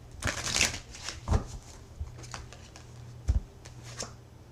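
Tarot cards are shuffled by hand in a tarot reading, giving several short riffling bursts and soft taps spread across the passage. The sound is close and fairly quiet.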